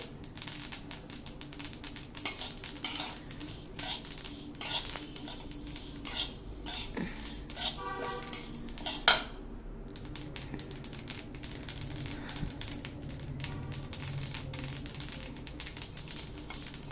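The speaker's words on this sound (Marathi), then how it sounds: "तीळ छान उडतात, भाजायला लागले की तडातड उडतात।" Sesame seeds roasting in a pan on a gas stove, giving dense, fast crackling and popping with scraping stirs, including one sharp clink partway through, close by and without speech.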